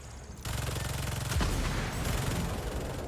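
Turret gunfire in the Spider-Man 2 video game, a dense sustained burst of rapid shots that starts abruptly after a short quiet lead-in and continues loud and steady with a heavy low rumble.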